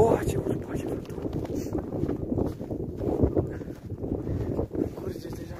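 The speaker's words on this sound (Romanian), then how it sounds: "Ce urât face vântul." Wind blowing at night in a cemetery, gusty rumble and buffeting on the microphone throughout, with people whispering and talking nearby and faint footsteps.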